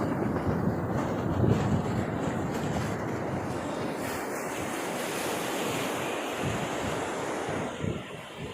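Strong sea waves crash steadily onto the shore at the coast near Konark, a loud, continuous roar of surf mixed with gusting wind noise on the microphone, with no talking.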